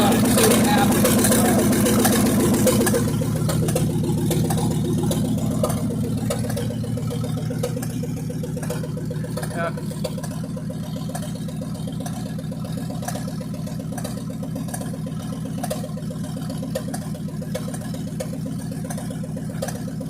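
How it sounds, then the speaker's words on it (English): A 1957 GMC truck engine, first started after 40 years in a junkyard, idles on its own with a steady, rough mechanical drone that holds even and fairly loud throughout. "We got the engine running. We've got, it seems to run pretty good, idling on itself."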